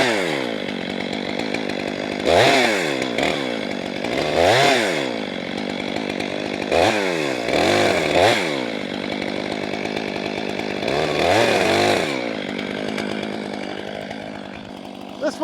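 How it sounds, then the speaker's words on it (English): A chainsaw bucks a spruce log into firewood rounds on a processing platform, loud and close, the engine surging into several repeated cuts and easing back to a high idle between them. "let's give this spruce log a slicing and dicing."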